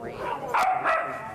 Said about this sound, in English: one dog barking starts this cacophony of barking